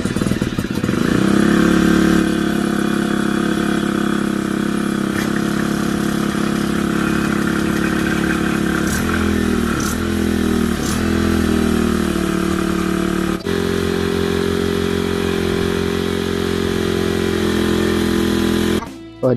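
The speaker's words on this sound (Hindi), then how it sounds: "और ये आप देख सकते हैं फाइनली मशीन स्टार्ट हो गया।" A Honda WS20X water pump's small engine runs after repair work on its carburetor, a loud, close, steady mechanical drone with slight shifts in pitch, throbbing on for nearly twenty seconds before cutting off abruptly at the end.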